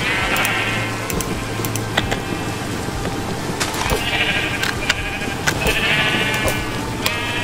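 Sheep bleat repeatedly in a farm video game barn, several overlapping calls rising and falling over steady background game ambience, moderately loud and close, with no talk over them.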